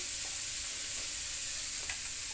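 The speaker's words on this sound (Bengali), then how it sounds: "এখানে খুব সুন্দর করে কষাই নিচ্ছি" Spices with salt and turmeric frying in a hot pan, giving a loud, steady, continuous sizzle close up, with faint stirring scrapes underneath.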